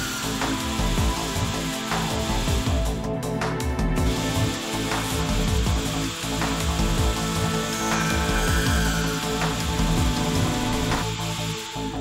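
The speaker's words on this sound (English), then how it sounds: "The through boring of the workpiece with no chip out reduces production time by approximately" GANNOMAT Vantage CNC line drilling machine boring rows of holes through coated panels, a dense, continuous mechanical whir with rapid repeated drilling bursts and clattering over a loud, steady hum.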